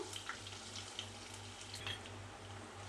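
Mustard seeds splutter and crackle in hot oil with crushed garlic, a soft continuous sizzle dotted with faint pops under a low steady hum.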